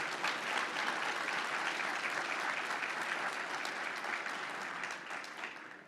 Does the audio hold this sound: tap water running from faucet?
no